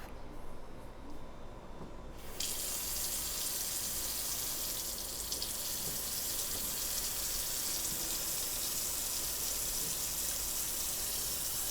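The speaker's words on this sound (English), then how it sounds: "The water starts leaking once you turn on the tap." A leaking kitchen faucet turned on, water gushing into the sink with a sudden hiss that starts a couple of seconds in and then runs steadily and loudly.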